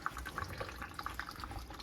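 Coolant from the cooling system of a 1979 Chevrolet C3 Corvette drains out in a steady, faint trickle with small drips and splashes, close by and continuous, with no talking.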